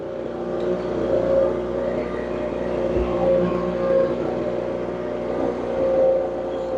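A Ryobi handheld leaf blower's small two-stroke engine holds a loud, steady high buzzing rev close by, with slight rises and dips in pitch throughout and no talk over it.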